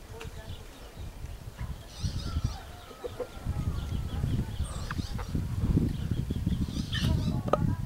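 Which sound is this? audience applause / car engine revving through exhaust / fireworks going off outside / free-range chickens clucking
free-range chickens clucking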